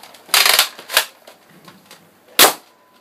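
Shots from a modified ERTL pump-action toy shotgun, heard as sharp, close snapping bursts: a double crack near the start, a lighter one after it, then a single loud crack near the end, with quiet handling noise in between.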